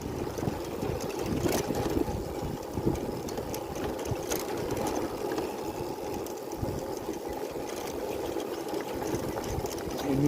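A motorbike engine idles in neutral on a hill road, a steady low rumble with a fast, even chugging that holds throughout, close by and fairly loud with no speech over it.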